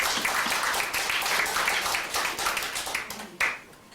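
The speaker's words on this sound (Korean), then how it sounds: "박수." A church congregation claps together during a plaque presentation at a Presbyterian service in Korea, a dense burst of applause that fades out near the end.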